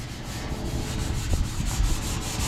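Red Scotch pad scuffing a painted part during a John Deere mower restoration, a steady close abrasive rubbing hiss with light uneven strokes.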